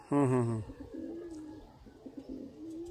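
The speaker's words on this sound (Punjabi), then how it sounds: "ਤੁਸੀਂ ਲਾਖੇ ਇੰਡੀਅਨ ਕਬੂਤਰ ਦਾ ਸ਼ੌਕ ਕਰ ਰਹੇ ਹੋ" A Lakha Indian pigeon gives a loud, close cooing call at the start, followed by softer, low murmuring coos.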